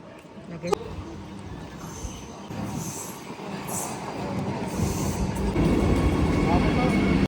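A train rumbles into a station and grows steadily louder as it draws near, with a sharp metallic clank early on and a low, continuous rolling roar.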